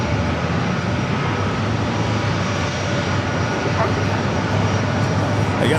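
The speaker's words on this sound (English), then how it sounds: "757 heading to Detroit, Michigan. Flight 492. It's a 25-year-old 757-200 delivered in 1999." A 25-year-old Delta Boeing 757-200 on final approach at San Diego airport gives a loud, continuous jet roar with a constant low hum, filling the scene without a break.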